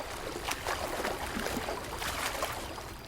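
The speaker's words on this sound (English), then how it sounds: "Abigay was walking on the beach until he heard splashing." Ocean water on a beach splashes and sloshes at moderate volume, an irregular wet churning with scattered bursts and no voices.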